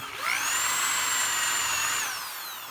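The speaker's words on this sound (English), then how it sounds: "Now I can be much more accurate as to where that twist drill bit is going to start." Hand drill spinning a larger twist drill bit into a workpiece, a single high whirring burst that spins up, holds steady for under two seconds, then winds down, close and alone.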